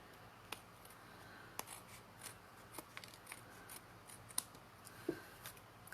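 Quiet, scattered snips of scissors cutting, a few sharp clicks spaced irregularly against a faint background hiss.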